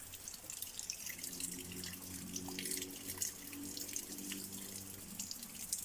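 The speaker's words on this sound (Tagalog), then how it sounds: "bumaba na yung tubig, hindi na malakas yung bukal" Water trickles faintly and steadily from a weakened mountain spring, a soft splashing flow under a low, constant hum.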